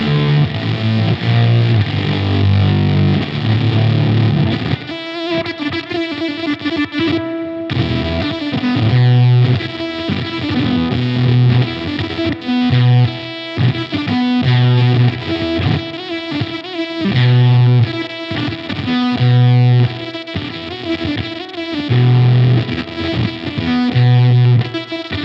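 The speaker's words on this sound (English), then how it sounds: "The Fuck also has a wonderful feature, which is a blown tube emulator." Heavily distorted electric guitar through a Z.Vex Fat Fuck (The Fuck) pedal with its blown tube emulator engaged, playing a loud continuous riff with rhythmic chugging bursts and sputtering, gated breakups, with no talking.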